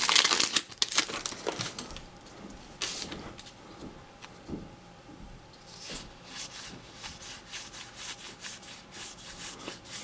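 A Magic: The Gathering M15 booster pack being torn open and handled, close crinkling and rustling of foil wrapper with rubbing and shuffling sounds, louder at the start and then continuing more softly.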